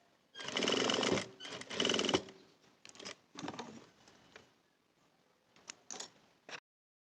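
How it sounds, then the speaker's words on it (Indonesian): A sewing machine stitches a belt loop, running in two long loud bursts, then shorter stop-start runs and a few brief whirs, close and alone. "jahit tindas bagian tepi kanan dan tepi kiri"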